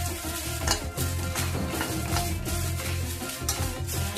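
Red chillies frying in oil until crisp for idli podi, a steady crackling sizzle with stirring scrapes and occasional clinks of a pan close by, no talk.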